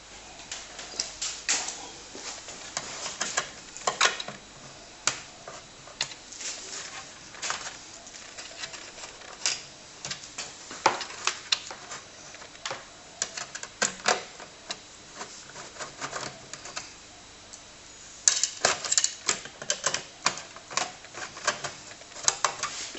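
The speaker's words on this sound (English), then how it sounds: "So now we've closed the thing up, I'll put some of the screws back in." Screws being driven back into the case of a TRS-80 Model 4P computer, giving faint, close clicks, taps and scrapes in irregular bursts over quiet room noise.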